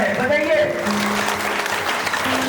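A crowd at a training conference claps hard and continuously, the dense applause running throughout while a voice speaks over it and a low tone hums in the background.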